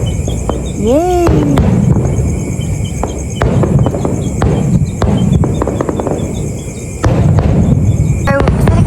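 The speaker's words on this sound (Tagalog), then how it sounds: "Fireworks talaga." Fireworks go off outdoors in a series of sharp cracks and bangs, some scattered and some in quick bursts, with excited voices and a steady insect-like hum in the background.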